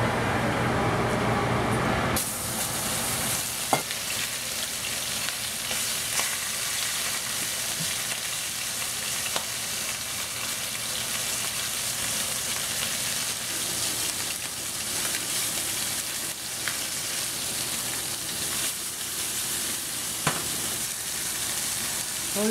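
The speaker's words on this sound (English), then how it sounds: "So you brown it one side and you brown the other side." Shrimp coated with cornstarch browns in a hot pan for a Chinese dish with salted duck egg, giving a steady, dense sizzle throughout with a few faint clicks, and no voice over it.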